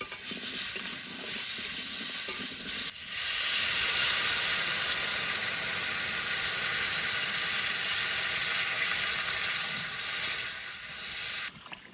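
Water poured into a hot pan of frying potatoes and pumpkin gives a loud, steady steaming hiss and sizzle that swells after a brief pause and holds for several seconds before dropping off.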